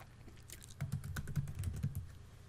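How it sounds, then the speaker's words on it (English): Typing on a computer keyboard, a quick irregular run of close key clicks and taps lasting about a second and a half. "just go to your text icon and type in"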